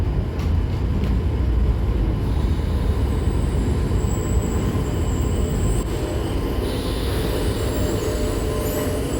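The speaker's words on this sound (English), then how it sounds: "let's take a look at one of the old Tyne and Wear Metro trains arriving at Sunderland Station" An old Tyne and Wear Metro train arrives at Sunderland Station heading south, a steady loud rumble of wheels on rails with faint squealing and a high whine near the end, no voices.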